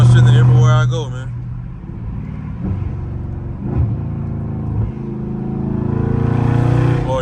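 Dodge SRT in track mode downshifting, a loud engine rumble and rev at the start that drops to a steady idle-like drone, with a voice talking over it and a renewed rise near the end.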